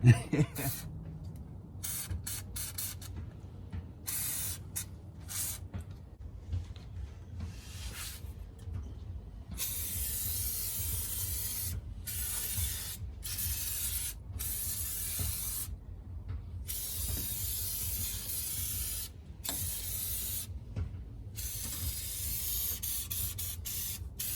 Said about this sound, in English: We're just going to go ahead and coat all of this frame down for the upcoming winter to give it some protection